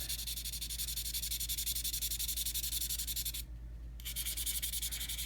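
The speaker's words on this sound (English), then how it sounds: "see if I can't sand off a little of this corrosion." 800 grit wet-dry sandpaper rubs corrosion off a Spyderco Vallotton pocketknife in quick, even back-and-forth strokes, close and steady, with one brief pause before the rasping resumes. No one speaks.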